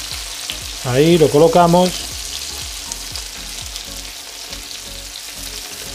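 Chicken pieces sizzle and fry in a pan for a Coca-Cola chicken dish while being stirred, with steady crackling and soft scraping of the spoon throughout. A voice speaks briefly near the start, over the frying.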